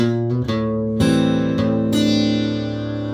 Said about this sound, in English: Now those 2 notes are open A, open E.